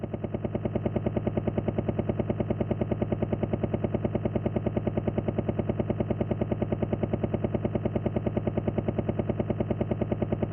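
Helicopter boss in the Final Fight 3 video game, a steady rapid synthesized rotor chop that pulses evenly and loudly throughout without any talking.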